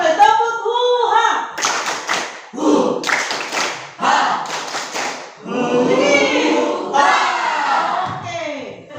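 A group in an Indonesian teacher training class performs a rhythmic clap routine, sharp hand claps in short bursts mixed with loud chanting voices, close and lively throughout.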